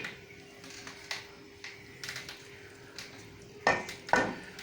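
Garam masala being stirred into chicken curry in a pot: a spoon scrapes and clinks against the pot in irregular, fairly quiet taps, with two sharper metallic knocks near the end and no talk.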